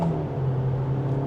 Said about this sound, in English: That was a nice gradual acceleration